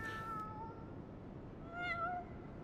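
A cat meows twice, a short call at the start and a rising, drawn-out meow near the end, over a quiet background hiss.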